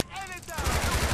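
A suspect firing a gun during a police patrol in the LCPDFR video game, a quick rapid burst of shots in close succession after a brief sharp tone, loud and near.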